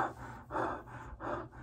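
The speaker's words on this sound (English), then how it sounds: "So when I breathe" Breathing through a cloth face mask with a nose clip: three slow, soft, close breath cycles, each a muffled airy whoosh through the fabric, under a low steady hum.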